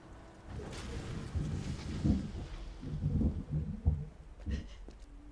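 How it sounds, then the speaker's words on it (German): Thunder rumbling outdoors during a storm, low and rolling with several swelling peaks over steady rain-like noise, moderately distant; a few faint higher clicks near the end. "aber hier bei mir im Real Life donnert es auch."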